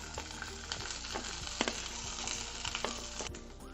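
Pre-fried chicken pieces for chicken 65 frying in hot oil in a pan, a steady dense sizzle broken by scattered pops and stirring scrapes, close and alone.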